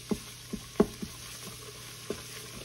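Oxtails and tomato paste fry in a pot, a soft steady sizzle under a few sharp knocks and scrapes as a utensil stirs them, close and fairly quiet.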